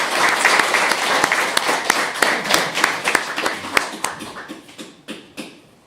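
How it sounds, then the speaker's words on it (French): An audience applauds employers, with brisk, dense clapping that thins into scattered individual claps and tapers off toward the end. "ça mérite une bonne main d'applaudissements pour les employeurs"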